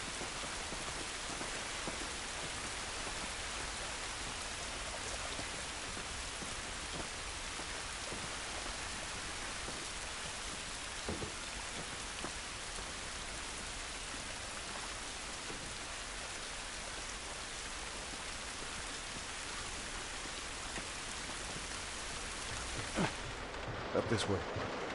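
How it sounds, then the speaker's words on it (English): Steady rain falling outdoors in the video game The Last of Us, a constant broadband hiss filling the whole scene, with a few brief louder knocks near the end. "It's raining"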